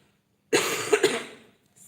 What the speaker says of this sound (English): Still, coughs will go when coughs want to go, won't they?